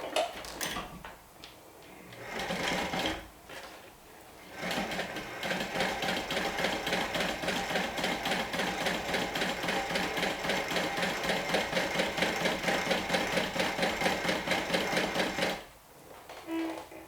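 A sewing machine runs in a long, steady burst with a rapid, even mechanical ticking that sounds slightly off, framed by brief starts and handling noises before and after.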